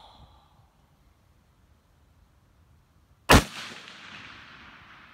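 A single sharp, loud precision rifle shot cracks out after a few seconds of near silence, then fades through a brief echoing tail; no one speaks.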